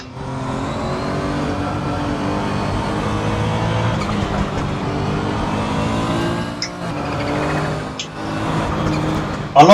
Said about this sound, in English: I like the sound of that turbo